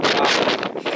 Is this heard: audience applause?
no